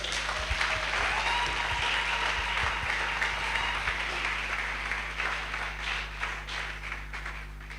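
Sustained applause from a church congregation cheering to acclaim the Lord, a steady dense wash of clapping holding across the whole stretch with a low hum beneath.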